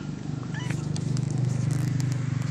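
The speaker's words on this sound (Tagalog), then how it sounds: "Ang harot ng pusa." A cat purrs loudly and steadily up close, a rhythmic low rumble, with a brief higher chirp or faint mew partway through.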